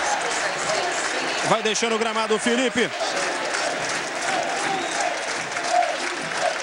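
A football stadium crowd applauds Vasco's Felipe as he leaves the pitch during a 2011 Carioca match against Madureira. The broad, steady, distant applause runs throughout under a commentator's speech.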